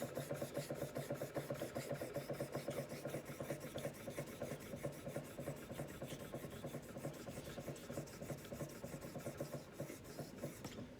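A Simmons Hardware No. 8 Special double concave straight razor is stroked repeatedly across a hone while the bevel is being set, producing a quiet, steady train of evenly spaced rasping passes close to the listener.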